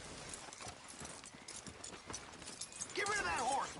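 Horse hooves clip-clop steadily in the Red Dead Redemption 2 video game, mixed with game noise and voices, ending in a loud neigh or whinny.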